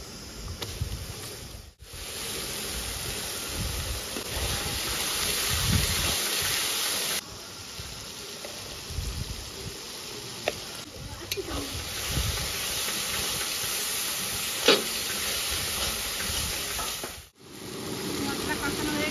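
Ginger, cumin, garlic and chili spices sizzle and fry in a pan in a home kitchen, a steady hissing crackle that runs nearly throughout with brief dips, under occasional voices.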